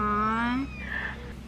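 Tiny rescued kitten found at a construction site gives a single clear, rising high meow close by, followed by a fainter short mew.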